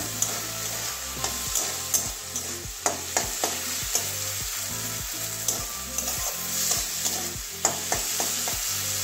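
Paneer filling for potol dorma frying in a pan, a steady close sizzle with a regular series of sharp spatula scrapes and taps against the pan.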